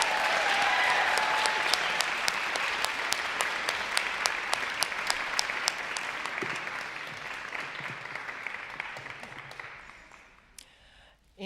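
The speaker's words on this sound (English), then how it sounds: "Can we give a round of applause to all of the winners tonight?" An audience at an evening awards ceremony applauds the winners, with dense sustained clapping that slowly thins out and fades to a few last claps.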